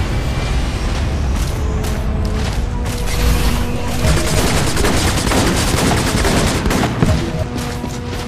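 Rapid gunfire at a firing range in the video game Section 8: Prejudice, continuous bursts of automatic shots mixed with heavier booms, loud and relentless throughout with no pause.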